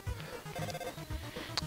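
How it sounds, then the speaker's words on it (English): Phone ringing in the Undertale video game, a short electronic ring tone among faint game sounds, fairly quiet. "What? Is that your phone?"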